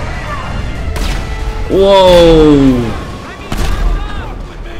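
Meteors slam into a tank in GTA 5 with a Thanos mod, a heavy impact and blast swelling into a loud descending roar before fading, with a voice exclaiming over it.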